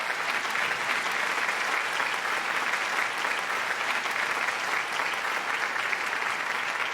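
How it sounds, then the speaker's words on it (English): Audience applause at a Bharatanatyam arangetram, steady sustained clapping from a large crowd that fills the room evenly for several seconds without letup. "A round of applause to all of these people"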